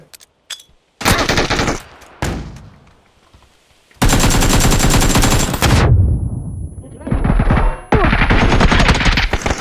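Gunfire in the video game PUBG: loud bursts of rapid automatic fire in several separate volleys with short silent gaps, very close and dominant.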